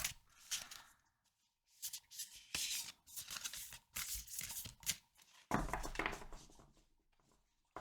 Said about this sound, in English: It's awkward to shuffle